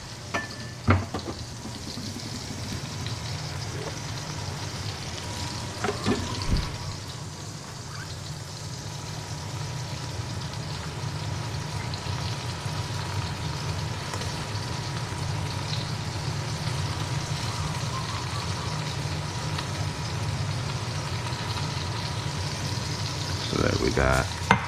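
Pot roast meat searing in a hot pan gives a steady, moderate sizzle and frying hiss throughout, with a few brief clunks and scrapes near the start and end.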